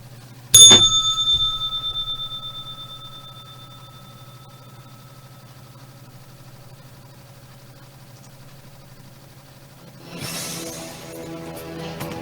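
A single bright bell strike rings out at the close of a daily religious broadcast, its clear tone decaying slowly over several seconds before other sound rises near the end.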